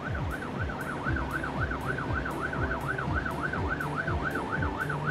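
Cartoon fire truck siren wailing steadily in a fast, even rise-and-fall cycle over a rumbling engine, loud and continuous with no talk.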